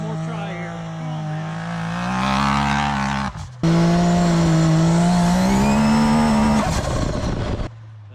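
A nitrous-powered Can-Am X3 side-by-side engine running loud and close, revving up in rising surges with a brief drop-out before roaring on steadily and then cutting back to idle.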